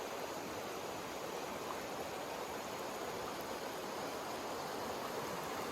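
River flowing past the campsites at the bottom of the Grand Canyon, a steady broadband rush of moving water with no pauses, heard from nearby on the bank with no voices.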